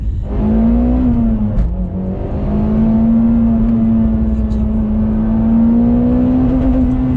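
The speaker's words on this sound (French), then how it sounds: "Il pousse tellement ce moteur qu'au bout d'un moment, tu dis que ça va pas s'arrêter" A Mitsubishi Evo X engine held at high revs under full throttle, a loud sustained droning whine that dips briefly then climbs steadily, close and continuous.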